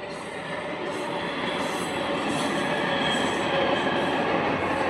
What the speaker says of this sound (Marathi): इकडून रेल्वे आली आमची, म्हणजे आली अहमदनगरकडून चालली आष्टीला.